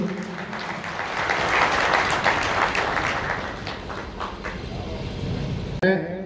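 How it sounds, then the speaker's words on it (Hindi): A crowd at a village clan gathering applauds to welcome an honored guest, a swelling wave of clapping from many people outdoors, peaking midway and fading, with voices murmuring and speaking beneath it. "तालियों बजा के इनका स्वागत करें सभी"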